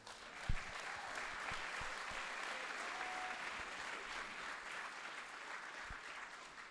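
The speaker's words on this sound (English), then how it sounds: "I want more of this pandering New Yorker applause" Audience applause at a New Yorker live talk event, a steady wash of clapping heard at a fairly low level from start to finish.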